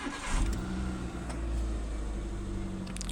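A Hyundai i10 engine cranks and catches, then settles into a low, steady idle nearby, a brief start with a faint thud partway through.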